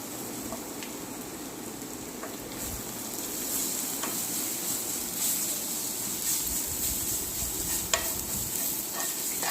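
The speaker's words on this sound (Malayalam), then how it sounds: "ചിക്കൻ മസാല നന്നായിട്ട് ഇളക്കി അതിൻ്റെ പച്ച ഒരു മണം മാറുന്നിടം വരെ ഒന്ന് മൂപ്പിച്ചെടുക്കാം" Chicken masala frying with sautéed onions in a pan, a soft continuous sizzle with occasional scraping stirs of a spoon, close and fairly quiet, no voices.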